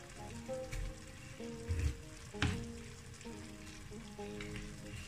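Onions sizzle and fry in a pan as the start of a pasta dish with white sauce and chicken breast, a steady soft crackle with a few louder clatters and stirring sounds, no talk.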